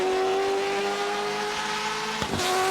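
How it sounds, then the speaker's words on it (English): In RaceRoom, a 2005 Mercedes DTM car's V8 engine drones steadily at high revs on the Nordschleife with a sustained tonal whine, then a brief sharp shift or blip near the end. "A car with a glorious V8 engine in it."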